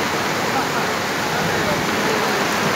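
Heavy rain and rushing floodwater at an inundated dhobi ghat in Jogeshwari, a loud, continuous broadband roar that fills the whole clip without pause.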